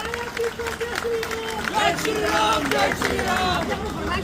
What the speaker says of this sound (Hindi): एक बार जोरदार ये ताली बजती रहे थोड़ी देर तक